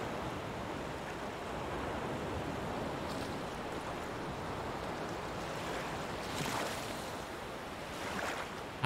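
Gentle surf washing onto a sandy beach in the driving game Tourist Bus Simulator, a steady, moderately quiet wash of water with a few slightly louder swells rolling in toward the end.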